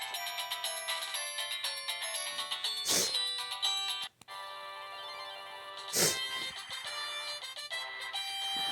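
A Samsung SGH-X450 mobile phone plays a polyphonic ringtone, a bright looping melody heard up close and alone, with a brief cut midway and a couple of short noisy bursts.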